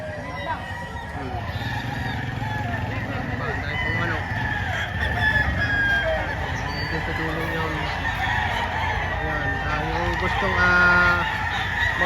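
Chickens and roosters cluck and crow throughout a busy poultry auction market at Padre Garcia, a dense steady din of fowl with crowd murmur underneath.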